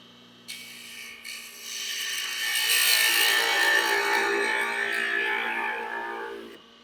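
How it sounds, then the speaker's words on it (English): A 1/16-inch parting tool cuts into a wooden Easter egg spinning on a lathe, giving a steady scraping, rasping hiss that swells after a quiet start and holds for several seconds before stopping abruptly. "We're going to grab a 16th inch parting tool and take it off."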